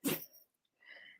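A single sharp sneeze from a dog, close and loud, followed after a short pause by a softer snuffling breath.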